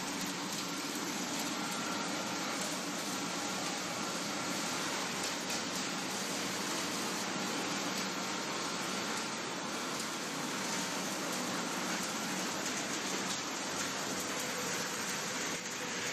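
A sawdust briquette production line with an extraction fan and screw conveyors, producing a constant dense, hissing machinery roar with no breaks, fairly distant and even throughout.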